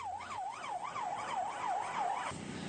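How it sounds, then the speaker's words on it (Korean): Fire engines race to a fire call in Gwangju, their sirens wailing in a regular rising and falling sweep over traffic noise, then the tone cuts off abruptly near the end. "출동 지령과 함께 소방차들이 화재 현장으로 달려갑니다"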